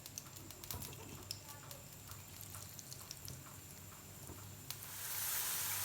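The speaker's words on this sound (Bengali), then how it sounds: "এবার আমি এগুলা তেলে ভেজে নিব।" Potato French fries fry in plenty of hot oil in a frying pan, a quiet steady sizzle with light crackles and pops that swells into a louder hiss near the end.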